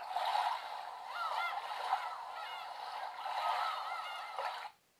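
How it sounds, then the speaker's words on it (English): A Holife digital alarm clock plays a recorded beach scene: a steady wash of waves with seagull calls rising over it, soft and continuous before cutting off abruptly near the end. "That's the sound of the beach with some seagulls and waves."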